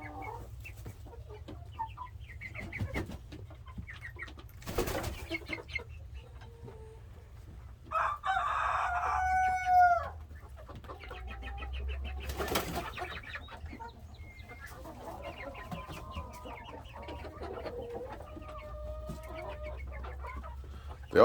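Large Americana chickens on a rainy day: a rooster gives one loud, drawn-out crow midway, amid scattered nearby clucks and soft flock chatter, with no talk.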